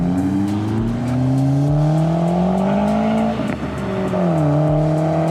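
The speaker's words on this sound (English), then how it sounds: "He's spinning, that guy's racing, this guy's low and slow." At a night car meet, a car spins and races with a loud, sustained engine roar whose pitch rises and falls through revs and shifts, with tire squeal mixed in, close and continuous.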